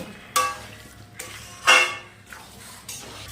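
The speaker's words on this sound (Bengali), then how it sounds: "এবারে সব কিছু মিশিয়ে এই মাংসটা আমি প্রায় সাত থেকে আট মিনিট খুব ভালো করে কষিয়ে নেব" Meat with spices is stirred in a pot. Three or four distinct scraping strokes of a spoon against the metal rise over a faint background sizzle.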